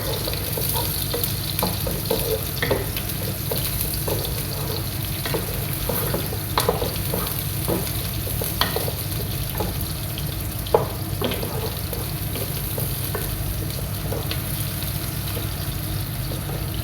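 Onions fry in a pan for chicken salona, giving a steady, moderate sizzle with scattered clicks and stirring scrapes throughout and no voices.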